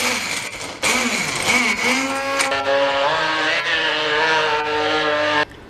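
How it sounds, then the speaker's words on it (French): An immersion blender whirs loudly through peanuts and oil as it makes peanut butter, its motor pitch shifting and dipping as the blade works the thick mixture, then cutting off at the end. "à l'aide d'un mixeur, pour ma part un mixeur plongeant, on va tout simplement mixer."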